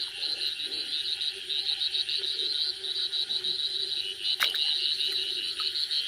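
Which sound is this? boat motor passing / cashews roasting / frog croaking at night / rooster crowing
frog croaking at night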